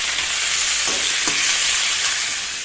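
Potato and pointed gourd pieces frying in a pan for a light fish curry, a steady loud sizzle of hot oil with a couple of brief stirring scrapes, no talk.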